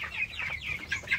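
Chickens on a farm clucking close by, a quick run of short, bright clucks in uneven rhythm with no talking.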